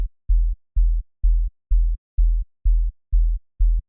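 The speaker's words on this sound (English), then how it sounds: "So a sub bass playing." Sub bass synth note on E2 from Serum, repeated eight times in an even rhythm, each a deep, loud, clean low hum cut off by short silences.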